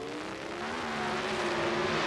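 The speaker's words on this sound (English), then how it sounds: "Tremendous amounts of RPM from the engine as the accelerator goes to the floor and the clutch comes out" A Pro Stock drag racing car at the 1981 NHRA U.S. Nationals roars at high RPM as it launches, its engine pitch climbing steadily in a loud, sustained blare with no talk.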